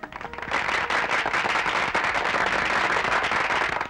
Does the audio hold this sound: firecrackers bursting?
yes